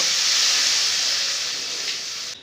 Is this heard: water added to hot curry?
yes